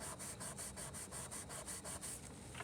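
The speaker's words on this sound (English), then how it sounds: "So I'm just using a clean part of a Kleenex here and picking up some of that value." A tissue rubs over a graphite drawing of lips on paper in quick, steady back-and-forth strokes, producing a soft, close, scratchy swish with a regular rhythm.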